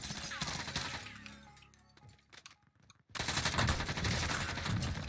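Rapid-fire light machine gun bursts in the battle royale shooter Warzone, moderately loud, with a stretch of sparse fading shots before a dense, sustained burst of automatic fire kicks in.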